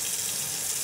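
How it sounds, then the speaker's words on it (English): Very hot tap water runs steadily from a faucet during a sudsy scrub, a continuous close hiss and splash with no pauses and no talking. "And hot water, very hot water."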